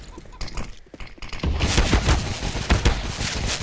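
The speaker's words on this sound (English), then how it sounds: "But it's going to be pistols peppering him on down." Pistol fire during a professional Counter-Strike match on the Inferno map, a dense flurry of sharp cracking shots that builds from scattered pops into rapid overlapping bursts amid game effects.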